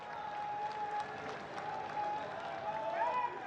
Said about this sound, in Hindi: आओ जोरदार तालियां नाल उन्हां दा स्वागत